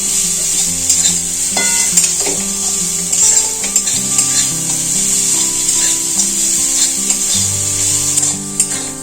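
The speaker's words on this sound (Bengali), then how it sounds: "এই নারকেল কুড়াটা হালকা আঁচে ভেজে নেব" Grated coconut fries in a pan over low heat, giving a steady soft sizzle broken by scraping stirs, with light music playing underneath.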